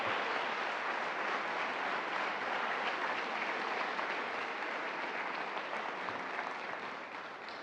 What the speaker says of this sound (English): That you can clap for.